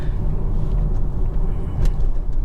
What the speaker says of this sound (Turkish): Baksana buralardan ne güzel geçiyor araba.